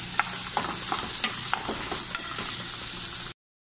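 Potatoes fry in a pan while being stirred, a steady sizzle broken by repeated light scrapes and taps of the utensil, then an abrupt cutoff.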